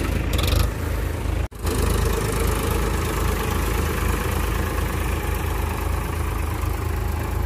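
A Powertrac Euro 50 tractor engine idles nearby with a steady, low, rumbling vibration. A brief knock sounds early, then the engine runs on evenly with no talk.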